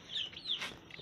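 Hens clucking at close range in a brief burst, with a rooster nearby and a silky hen sitting in the corner; soft repeated clucks, no talking.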